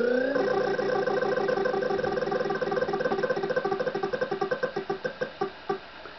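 Wheel of Fortune on the NES, with the prize wheel spinning as a steady run of synthesized chiptune ticks that slow and space out toward the end as the wheel winds down.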